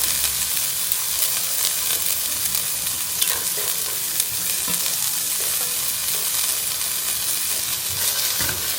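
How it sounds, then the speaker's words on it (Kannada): Chilies, garlic, ginger and onion frying in a pan, a dense, steady close-up sizzle with faint stirring scrapes and no talking throughout. "ಸ್ವಲ್ಪ ಆನಿಯನ್ ಗೋಲ್ಡನ್ ಕಲರ್ ಆಗೋ ತನಕ ಫ್ರೈ ಮಾಡ್ಕೊತೀನಿ."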